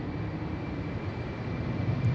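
An Air Canada Boeing 787-8 Dreamliner takes off from Schiphol's Polderbaan runway, a steady, even roar of jet engines that stays at a constant level and grows slightly louder toward the end.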